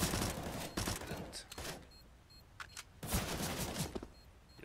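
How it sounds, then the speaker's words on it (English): A grenade explodes during a Counter-Strike round on the Cobblestone map, giving a sharp blast with loud gunfire and bursts around it, followed by a quieter stretch and more shots close by. "Just a nade."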